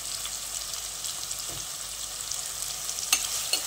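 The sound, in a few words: onions and garlic frying in a pan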